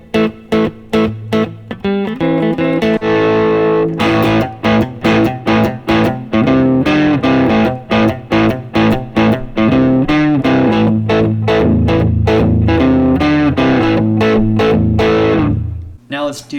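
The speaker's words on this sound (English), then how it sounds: "Let's start with the overdriven clean sound." An electric guitar with overdrive through a clean amp plays a rhythmic song riff of chopped, crunchy chords with short gaps between strums, loud and close throughout.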